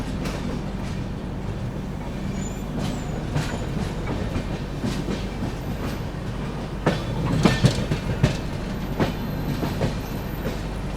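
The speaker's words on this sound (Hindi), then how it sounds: "अपनी ट्रेन पहुंच गई है लोनावाला" The Chennai Express from Mumbai CSMT to MGR Chennai Central rolls along the rails near Lonavala. A steady, loud rumble of carriages runs throughout, with rhythmic clickety-clack wheel beats growing stronger toward the end and no talking.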